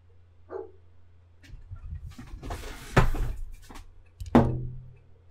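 A dog barks in Sonic and the Secret Rings, a few sharp close yaps rising out of low rumbling game sound, with one stronger bark near the end.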